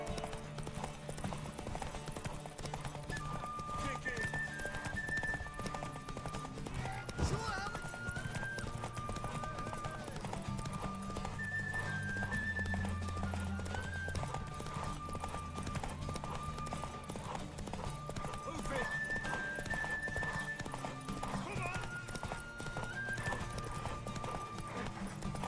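Steady clip-clop of horse hooves trotting in The Witcher 3, continuous and fairly close, with an occasional whinny and some music-like tones in the background.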